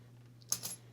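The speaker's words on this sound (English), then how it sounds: "I'm going to use these clippers over here just to cut this off" Clippers snip the tag end of a fishing line while tying a beginner's rig, giving a couple of quick, close metallic clicks against a faint steady hum.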